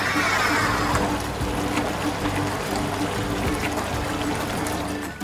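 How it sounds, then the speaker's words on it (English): Water sprays and splashes inside a small LEGO-built dishwasher as its pump drives the spray arms onto dishes and trays, a steady close rushing and trickling with a faint motor hum underneath, continuous throughout. "Water will be sprayed from the spray arms onto the dishes and the trays to wash away the dirt."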